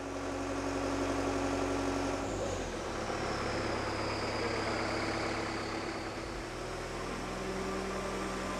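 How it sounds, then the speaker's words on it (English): An aircraft tow tractor engine idles and rumbles nearby in a hangar, its low throb shifting in pitch partway through, steady and continuous without speech. "The operator of the aircraft tractor grabs the nose wheel to carefully push it out of the hangar"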